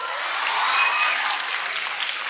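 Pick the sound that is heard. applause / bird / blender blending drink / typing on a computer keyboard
applause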